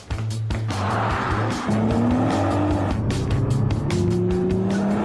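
A Nissan GT-R's 3.8-litre twin-turbo V6 pulls hard on an open road in Japan, a loud, steady engine note rising through the gears with brief tyre squeal and no talking.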